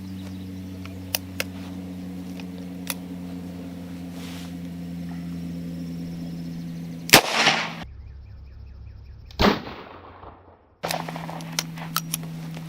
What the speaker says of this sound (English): We're going to hit it again with 44 mag,